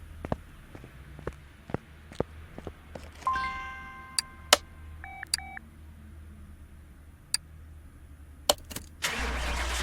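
A supercharged V8 engine in the Car Mechanic Simulator 2018 video game cranks and fires at the very end, after a run of sharp interface clicks and short electronic beeps.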